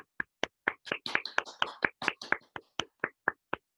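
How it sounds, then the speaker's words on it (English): Sparse, quiet hand claps from what sounds like one or a few people applauding panelists at an online discussion meeting, about fifteen sharp, unevenly spaced claps over a few seconds with no talking. "let's give a big round of applause to all the panelists who put forth their views"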